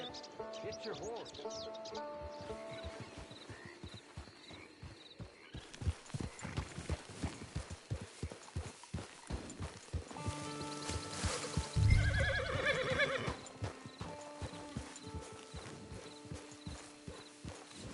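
Horse hooves clip-clopping in a steady walking rhythm with a loud whinny around the middle, from a horse in the video game Red Dead Redemption Online, heard near and clear over ambient game sounds.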